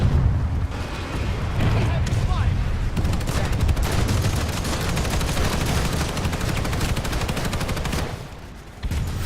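Planetside 2 battle gunfire as multiple units fire down on a base: rapid continuous automatic bursts and heavy booms layered into a dense barrage, loud and sustained, easing briefly near the end.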